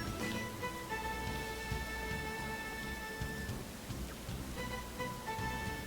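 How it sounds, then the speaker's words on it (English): Rain patters continuously in Xenoblade Chronicles 2, a steady hiss under sustained tonal music notes, with no speech. "I love how he says it might rain in no time and it's raining."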